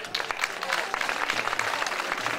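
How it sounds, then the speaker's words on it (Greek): An audience at a Greek television broadcast honouring young Cretan tradition performers claps steadily in a dense, even patter of applause that carries through the whole moment. "ζητώ ένα θερμό χειροκρότημα για"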